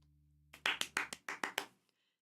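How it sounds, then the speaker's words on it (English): A short burst of hand clapping, about eight sharp claps in quick, slightly uneven rhythm, close and fairly loud, starting after a faint low hum and ending in silence, with no talk. "that's the sound clapping makes."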